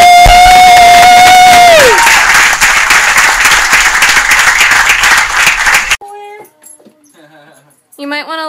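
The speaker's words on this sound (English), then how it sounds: "A round of applause." A crowd at a military homecoming surprise breaks into loud applause and cheering, a dense roar of clapping and shouts that cuts off suddenly, followed by scattered excited voices and a sung or held tone.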